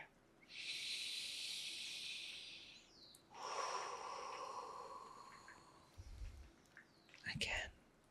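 A slow, deep breath drawn in close to the microphone in a soft ASMR setting. It makes a long airy hiss, followed by a further breathy exhale and faint whispering.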